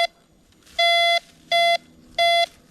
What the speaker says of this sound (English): because I get that double beep down on the ground